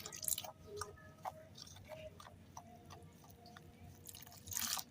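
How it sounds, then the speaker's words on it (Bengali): Pakora batter being mixed by hand as water is added little by little, with faint wet squishing and dripping, soft slaps of the batter and light drips. The sounds stay quiet and close. "আমি অল্প অল্প করে জল দিয়ে ব্যাটারটা গুলে নেব"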